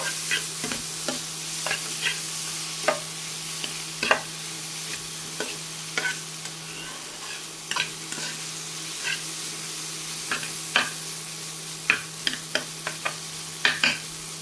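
Vegetable chow mein stir-fried in a pan without onion, ginger or garlic: a soft continuous sizzle broken by regular scraping and tossing clacks of the spatula, close and moderately loud.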